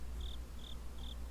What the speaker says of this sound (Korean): 귀뚜라미 울음소리가 구슬프게 울려 퍼졌다